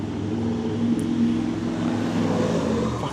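A loud car engine rumbles close by for the whole stretch, a steady low drone that swells slightly in the middle as the vehicle passes, with no talking over it.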